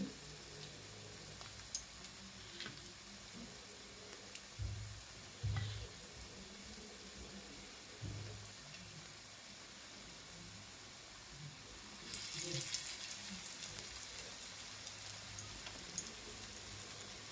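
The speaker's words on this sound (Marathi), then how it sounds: "मीडियम गॅसवरती आपल्याला हे शॅलो फ्राय करून घ्यायचं आहे, डीप फ्राय करायचं नाही" Sweet corn veg cutlets shallow frying in oil over a medium gas flame, a soft steady sizzle with occasional low knocks and a brighter hiss swelling near the end.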